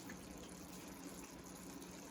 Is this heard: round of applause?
no